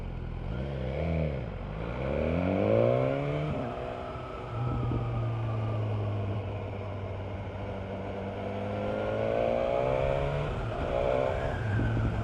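BMW S1000R motorcycle accelerating hard through the gears, its engine note rising and dropping with each shift, loud and close on the road at night with no talk.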